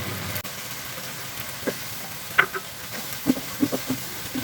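Spice paste for a fish curry sizzles in frying oil as a soft, steady hiss close by, dotted with a few small pops and crackles.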